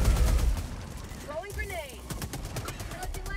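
Shotgun fire in the video game Helldivers 2 during a desert battle, several loud blasts and crackling gunfire in a dense, continuous barrage mixed with game effects and a voice talking over it.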